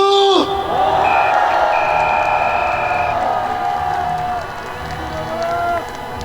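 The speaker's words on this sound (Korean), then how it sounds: "박수!" Cheering and applause rise from a large crowd at an outdoor political rally in Gwanghwamun, a continuous roar with whoops and shouting layered over it, steady and loud throughout, dipping slightly near the end.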